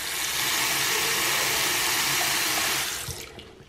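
Water gushes steadily from a bathroom sink faucet while a newly fitted pop-up drain stopper is tested, a loud even rush that cuts off near the end, leaving faint drips.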